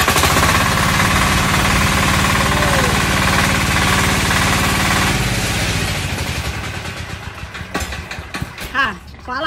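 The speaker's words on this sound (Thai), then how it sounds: "เครื่องยนต์ดีเซลใหญ่11แรงม้านะคะลองให้ช่างสตาร์ทมือดู" A large 11 hp diesel engine is hand-cranked and fires up, a loud, steady rumbling chug that dominates before easing off and becoming more uneven and broken toward the end.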